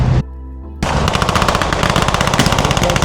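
Rapid, loud machine-gun fire crackles in dense repeated bursts at a Capel Military Show battle reenactment with tanks, including a Sherman, following a short lull that holds a low hum.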